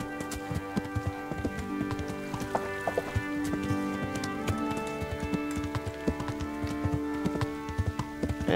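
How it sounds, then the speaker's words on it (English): Horse hooves clip-clopping in the medieval video game Kingdom Come: Deliverance, a steady, close rhythm of sharp hoofbeats on hard ground over a faint background. "Get to the gate, horse."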